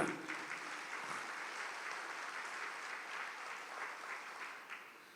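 A church audience applauding during a priest's talk: a soft, distant wash of steady clapping from many hands, faint and even throughout, with no voices over it.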